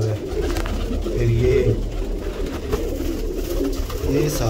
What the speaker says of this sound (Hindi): ये रामपुरी माती है जी, ये गोल्डन कबूतर हैं ऊपर।